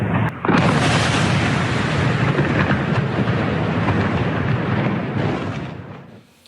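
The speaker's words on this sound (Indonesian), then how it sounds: "Rangkaian ledakan mengguncang Mais Al-Jabal." A series of explosions in Mais Al-Jabal, South Lebanon, comes through as a sustained, heavy rumbling roar that swells in at once and slowly fades out, loud and without talk.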